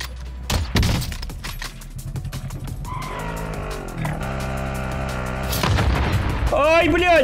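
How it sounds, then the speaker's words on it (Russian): In Call of Duty: Warzone, a mine explodes with a loud, abrupt burst. Rumbling, distorted game noise and a voice follow, and a sharp crack and a chirping sound come near the end. "Я взорвался на мини!"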